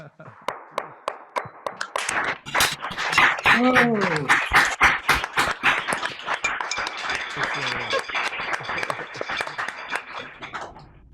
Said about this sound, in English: Thunderous applause, right?